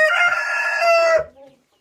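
Chickens in a coop: a rooster crows once, loud and close, followed by a brief cluck as the call fades into quiet.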